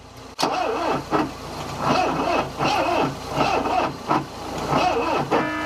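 A Ford Escort Mk3 engine cranks on its starter motor in repeated rhythmic whirring bursts, loud and close, after a sharp click at the start, with no catch.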